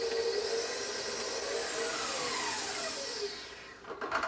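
An electric mixer whirs steadily through gluten-free strawberry shortcake batter and milk in a mixing bowl. The loud, continuous whine holds on alone, then dips and sputters near the end.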